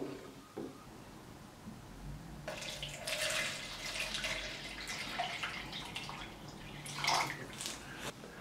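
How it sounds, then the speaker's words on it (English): Water sloshes and trickles inside a Lomo spiral tank while Super 8 film develops, a quiet intermittent swishing and dripping as the tank is turned for agitation, with no talking. "when you want to do an agitation you just turn this just see if we can shake off any bubbles"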